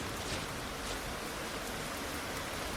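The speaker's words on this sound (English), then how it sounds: "Torrential rains, roads turn to rivers of mud" Heavy torrential rain pours steadily, a dense unbroken hiss of downpour filling the whole scene at moderate level, with no voices or other distinct sounds standing out.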